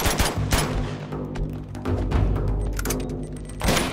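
Dense gunfire from the video game Uncharted 2, rapid overlapping shots and bursts crowding the whole stretch, loud and close with brief lulls between volleys.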